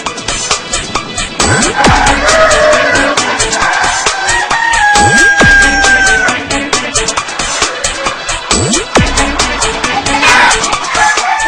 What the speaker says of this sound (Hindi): बिल्कुल स्याह काले कड़कनाथ